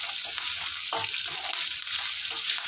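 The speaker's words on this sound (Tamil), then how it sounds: "மிளகாயும் கருவேப்பிலையும் கொஞ்சம் பொரியட்டும் எண்ணெயில்." Chillies and curry leaves fry in hot oil for mango rice, producing a steady, close, crackling sizzle with small bubbling pops throughout and no talking.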